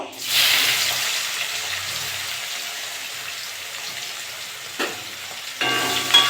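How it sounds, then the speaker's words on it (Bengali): Onions sizzle steadily in hot oil as a close, continuous hiss, with a few brief clanks of a spoon or pan partway through and near the end. "পেঁয়াজটা একটু ভেজে নেব"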